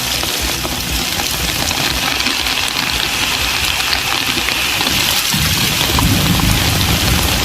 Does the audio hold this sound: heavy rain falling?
yes